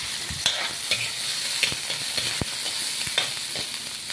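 Onions sautéing in a pan, a soft continuous sizzle punctuated by sharp scrapes and clinks of stirring at irregular intervals, close and alone without speech.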